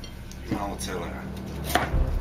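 A kitchen knife chops celery on a board with a handful of dull, separate knocks, close and moderately quiet over a steady background hiss.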